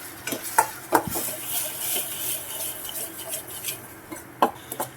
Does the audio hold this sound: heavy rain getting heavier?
no